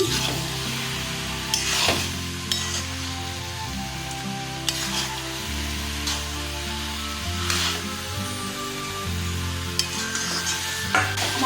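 Fried potatoes are stirred into cabbage and green peas in a pan, with a soft continuous sizzle and repeated scraping strokes of a spatula at an even, unhurried rhythm.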